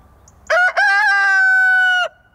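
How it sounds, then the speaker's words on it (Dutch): A rooster in a petting zoo crows once, loud and close, a long harmonic cock-a-doodle-doo with a brief break near its start, against quiet surroundings. "Er zijn 3 hanen in de dierenweide en die maken geluid, ze kraaien."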